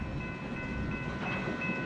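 A Union Pacific mixed freight train rolls past at close range, a steady loud rumble with faint wheel clatter holding throughout and no other sounds on top.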